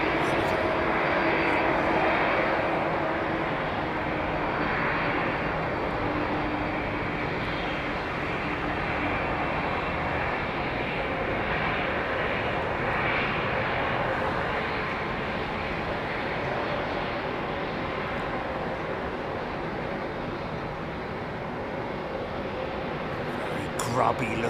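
A grubby-looking aircraft at London Heathrow Airport, its engines giving a broad, steady jet roar that stays loud and close throughout with only slight swells.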